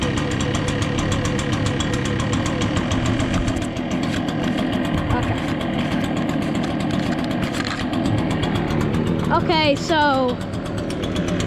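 Echo backpack leaf blower with a two-stroke engine running close by, a steady loud buzzing drone throughout while someone talks briefly over it.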